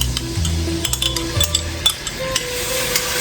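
Fresh garlic fries in hot olive oil in a pan, giving a steady close sizzle punctuated by scraping stirs and light utensil taps against the pan, with no talking.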